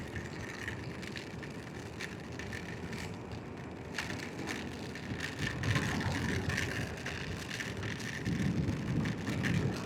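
Heavy rain pours during a night ride on the Marilaque Highway, a steady broadband wash of rain and road noise with a low vehicle rumble that swells louder in the second half; no one speaks.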